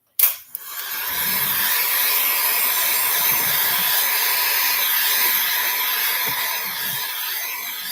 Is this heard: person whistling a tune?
no